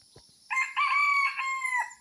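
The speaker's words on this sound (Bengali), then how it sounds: "এই মোরগের পাশে আরও মোরগ আছে" A pet rooster crows once, a loud, clear, drawn-out call close by, preceded by faint clucking, with other roosters kept nearby.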